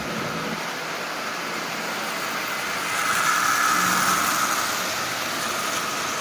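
Marx 999 toy train locomotive, assembled from mixed parts, running at half power and pulling 14 Lionel cars around the track, giving a steady, even whirring rumble that swells slightly midway.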